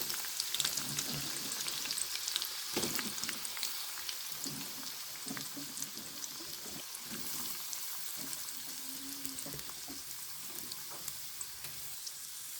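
Continuous loud sizzling of onions frying in hot oil, with occasional stirring scrapes, close up and without speech.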